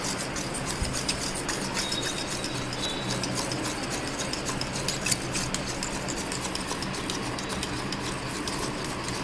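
Mayonnaise, tomato ketchup and green chilli sauce are mixed together in a bowl, a continuous close scraping and rubbing of the spoon with a low background hum and no talking.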